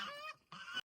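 A duck gives two short, nasal quacks in quick succession, faint and close, then silence.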